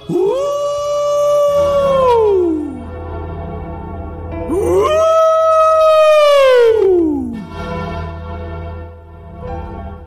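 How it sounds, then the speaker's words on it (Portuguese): A wolf howling sound effect: two long, loud, close howls that rise and then slide down in pitch, separated by a short pause, followed by a quieter trailing cry. "Ele olha para a lua cheia e uiva como um lobo."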